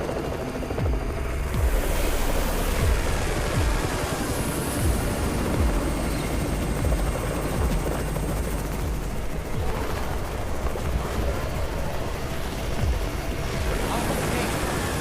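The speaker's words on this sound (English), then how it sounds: "It's the Raven's chopper!" A video game helicopter's rotor thumps and whines steadily throughout, mixed with dense rumbling and crackling noise, like a loud battle scene.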